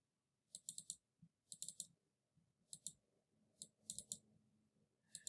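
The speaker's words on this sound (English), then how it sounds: "I'm going to double click this until I get" Double-clicking a computer mouse: quick pairs and triplets of sharp, light clicks repeating in a loose rhythm, close and quiet, with a faint low background murmur.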